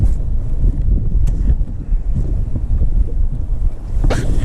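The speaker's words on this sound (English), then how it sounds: "the wind picked up quite a bit in this kind of mid-morning section of the day" Wind gusts across a lake from a fishing boat, producing loud, rumbling buffeting against the microphone that stays constant with a few sharper gusts.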